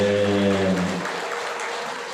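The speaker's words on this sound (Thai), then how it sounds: "ขอเสียงปรบมือดังๆอีกครั้งหนึ่งเด้อ" Applause rises at a Thai temple Kathin merit-making celebration, taking over as a sustained musical tone fades in the first second, then continuing as a steady, moderately loud wash of clapping.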